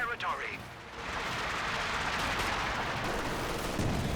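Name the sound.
grenade explosion in Company of Heroes 2 video game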